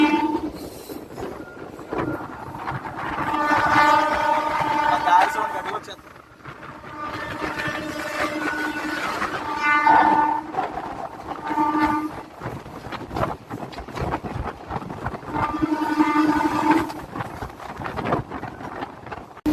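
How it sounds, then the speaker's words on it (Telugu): A MEMU passenger train pulls into Yelamanchili station behind a locomotive, its horn sounding in several loud blasts over rolling rail noise, while someone talks throughout. "ఇదిగోండి బ్యాక్ నైన్ లోకమోటివ్తో వస్తుంది మన ట్రైన్"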